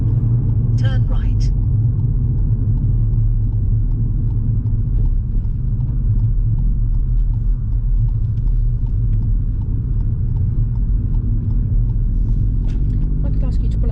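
A car drives along a road during a mock driving test, its low engine and tyre rumble steady and close throughout, with a brief clicking at the start and no talk.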